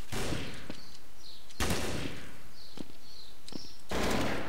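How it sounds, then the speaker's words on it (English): Gunfire in Counter-Strike: Source, with several loud, sharp bursts of shots spaced a second or two apart, close and harsh over a quiet hiss, with no talk. "there's someone shooting at me"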